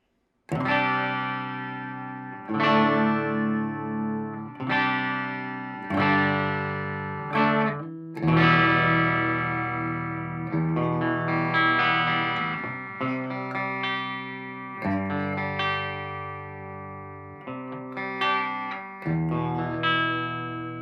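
Clean electric guitar chords with active pickups ring out one after another, each strum sustaining and fading, with some chorus-like shimmer and gaps between phrases.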